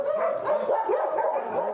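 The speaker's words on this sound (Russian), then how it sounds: "Так реагируют собаки на незнакомца" Dogs at an animal shelter barking at a stranger, a rapid run of overlapping close barks and yips, loud and continuous.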